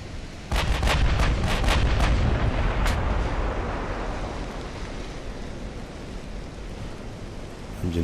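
Naval gunfire and shell hits in the warship game Ultimate Admiral: Dreadnoughts: a rapid cluster of loud booming gun blasts, then one more heavy hit, fading into a long rumbling roar of explosions and sea noise.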